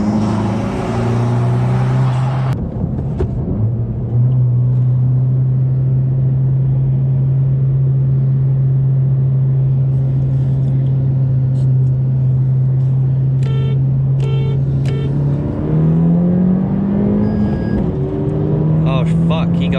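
A 2020 Honda Civic Si accelerates hard during a street race against a 2009 Cobalt SS, its engine drone steady and loud, climbing in pitch through the gears, with a brief lift and shift partway through.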